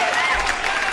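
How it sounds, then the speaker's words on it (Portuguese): A brief, loud burst of studio applause on a Brazilian radio morning programme, with a dense clapping wash and a voice talking over it. "cadê as palmas aqui do programa Manhã Interativa para meu amigo Adriano Araújo"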